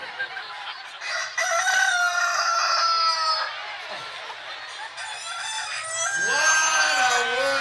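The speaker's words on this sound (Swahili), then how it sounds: "Can you hear the rooster say thank you God?" A rooster crows in long drawn-out calls, with clucking between them and a second crow near the end, fairly close.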